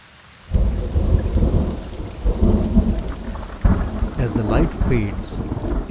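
Monsoon rain pours down on the Mhadei forest in a steady, dense roar after a quiet start, with low rumbling underneath and no voices.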